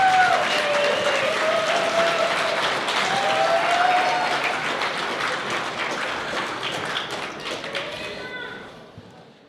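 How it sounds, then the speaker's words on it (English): A crowd at a high school robotics competition opening ceremony gives a round of applause to parents, coaches and mentors, dense clapping with scattered voices and thumps that fades out toward the end. "How about a round of applause for them?"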